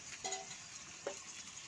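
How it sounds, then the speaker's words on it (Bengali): Onions frying in a pan over a wood-fired clay stove in a village kitchen, a steady soft sizzle with two brief stirring scrapes, fairly quiet and close, with no talk. "সুন্দর করে পেঁয়াজ ভাজা হচ্ছে।"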